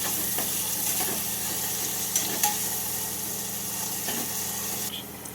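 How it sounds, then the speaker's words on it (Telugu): Onions frying in a pan for a ridge gourd tomato curry, a steady close sizzle with occasional stirring scrapes and no talking. "ఇవి కొంచెం ట్రాన్స్పరెంట్ అయ్యేంత వరకు ఫ్రై చేసుకోవాలి"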